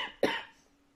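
One sharp, harsh cough bursts out close by after a brief exhale, then fades into quiet, with no talking.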